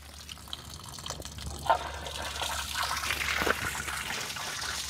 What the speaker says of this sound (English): So I'm going to drain about 2 or 3 gallons out of this so it's not over full.